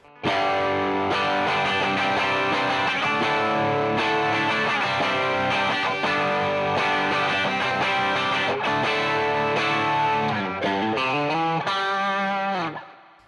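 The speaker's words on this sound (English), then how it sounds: "now we're going to do some of the overdriven tones. Again, back to bridge." An overdriven Harley Benton TE52 electric guitar on its bridge pickup plays a sustained run of bright, gritty chords and notes, loud and close, ending with a sliding descending phrase.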